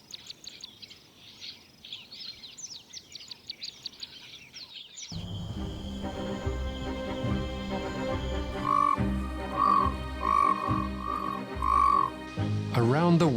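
Cape platana frogs croaking, first as a faint scattered chorus, then a louder, closer run of repeated croaks with bird-like chirps layered over a steady background.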